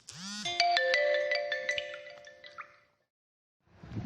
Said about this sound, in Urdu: رنگ ٹون کے لیے سوری، اصل میں میری بیل بج گئی۔